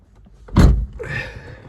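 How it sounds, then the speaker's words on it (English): A Vauxhall car door unlocks and opens: a single solid thunk followed by a softer mechanical whir, close and alone. "Right, so yeah, that door unlocked."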